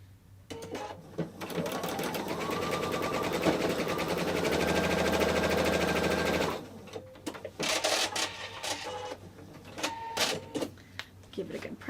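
A sewing machine runs steadily for several seconds as quilt block pieces are stitched together right sides facing, then stops, followed by handling noises and a person talking.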